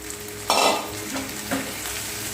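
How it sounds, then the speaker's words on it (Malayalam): A ladle stirs potato masala with carrot, green chilli and capsicum in a pan, giving one loud scrape and two softer follow-up scrapes over a low, continuous sizzle. "തവി ഉപയോഗിച്ച് ഇളക്കി യോജിപ്പിച്ച് കൊടുക്കുകയാണ്."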